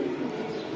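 Pigeons at a seller's stall, high-flying Giribaz birds, give a low, steady cooing that runs close and continuous for under a second.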